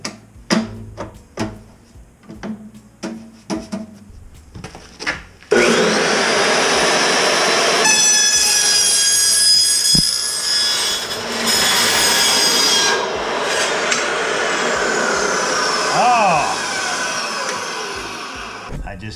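A Ridgid 614 dry cut saw slices through 4 inch sheet-metal smoke pipe right at the joint. A few sharp handling knocks come first, then a loud, sustained metallic whine and grind runs close by for the rest of the clip.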